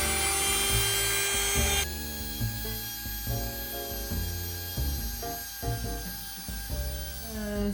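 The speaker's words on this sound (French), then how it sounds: "Alors là je ponce, c'est pour enlever le surplus de colle sur les bords." Sandpaper rubs steadily back and forth across a glued edge to remove excess glue, close and continuous with a rhythmic scraping texture.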